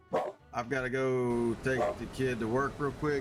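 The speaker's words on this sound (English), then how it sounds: "Sorry for the dog noise too" A dog barks and yips in the background of a home gaming session while someone talks over it, the barking loud and overlapping his voice for the whole stretch.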